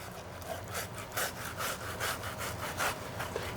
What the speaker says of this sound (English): put it flat, hold it at the end, and move your knife in a jigsaw fashion